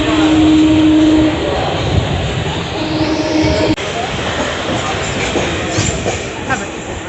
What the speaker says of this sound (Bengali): আমাদের প্ল্যাটফর্ম নম্বর 1-এ ট্রেন ঢুকে পড়ছে।